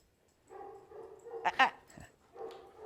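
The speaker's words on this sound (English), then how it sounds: "This is a dog that she had a real big problem with coming in earlier." A reactive dog in a training session whines and gives a couple of short yelping barks, close by, with a steady whimpering tone running through most of the clip.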